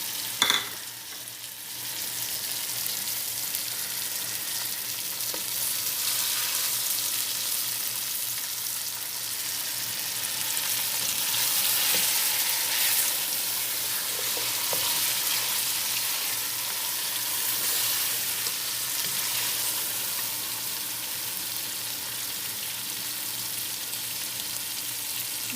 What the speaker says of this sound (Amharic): ከለሩን ቀይሯል፣ በደንብ ተጠብሷል ማለት ነው።